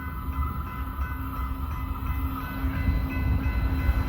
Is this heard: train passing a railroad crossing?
yes